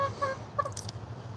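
Swedish ducks on a farm give soft, close clucking quacks in a short, uneven series over a low steady hum.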